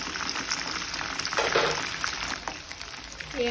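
Chicken pieces fry in hot oil, giving a steady, dense sizzle and crackle close by with a few louder bursts of bubbling, and no talking.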